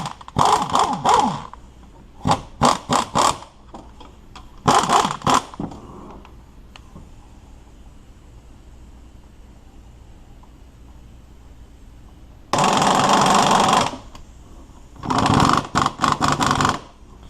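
A hammerhead ratchet fitted with a 15mm swivel socket works on studs of a GM 3800 V6 intake manifold, bursts of rapid close clicking separated by quiet stretches, with one longer loud rattling run toward the end.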